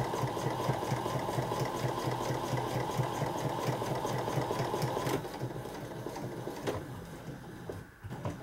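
A sewing machine stitches a make-up bag in a steady, close, continuous run of rapid rhythmic needle strokes, easing slightly toward the end with a brief clunk.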